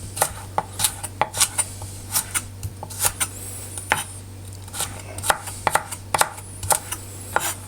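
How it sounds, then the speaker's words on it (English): Carrots sliced into matchsticks with a knife on a cutting board: a quick, irregular series of crisp chopping knocks, close and fairly loud, over a low steady hum. "Just cut those into matchsticks."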